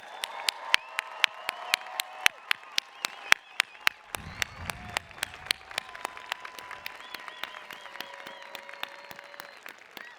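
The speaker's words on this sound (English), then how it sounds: "How about another round of applause?" Applause from an audience at a commencement ceremony, steady clapping with sharp individual claps standing out near the microphone, continuing for about ten seconds with a faint murmur underneath.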